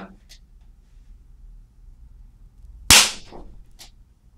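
A fat capacitor bursts with a single sharp, loud bang that decays into a brief crackling rattle, preceded by near silence and a faint click or two.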